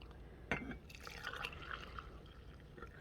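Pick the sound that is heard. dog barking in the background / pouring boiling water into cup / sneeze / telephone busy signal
pouring boiling water into cup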